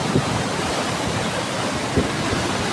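Water rushes steadily through the Iranaimadu reservoir, a constant broad roar of flowing water close to the microphone, with a couple of brief buffeting wind thumps on the mic.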